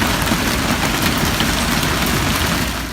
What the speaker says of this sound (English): giant hailstones slammed into the parking lot